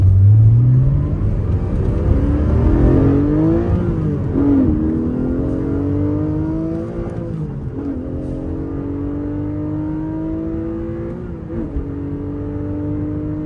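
A 2023 Porsche 718 Cayman GTS 4.0 revving hard on a country road: engine pitch climbs steeply through several gears with brief dips at each upshift, loud and close, then settles to a steady cruise drone.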